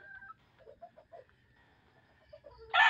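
Soft clucking from a few hens, with short murmured calls scattered through, ending in a brief louder squawk.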